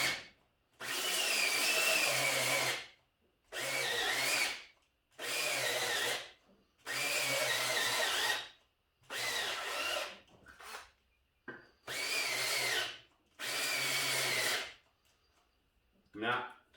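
A battery drill grinds against a reel mower blade, sharpening it in seven long, loud bursts of a few seconds each, separated by short pauses.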